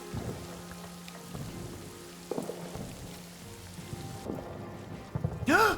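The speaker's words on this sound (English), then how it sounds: "the rain hasn't stopped" Steady rain in a trench warfare video game patters on a surface with low thunder rumbling beneath, continuous and fairly close, ending in a brief electronic chime.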